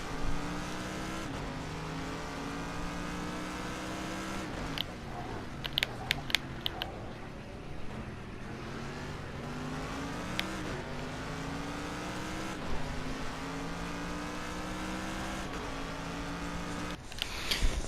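Race car engine in a racing video game, revving continuously with shifting pitch as it accelerates and changes gear, a few sharp clicks and bumps along the way, steady and fairly quiet throughout with no talk.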